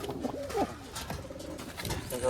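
Domestic pigeons in a loft coo in soft, low, repeated rolling calls, several overlapping at close range against a faint background hum.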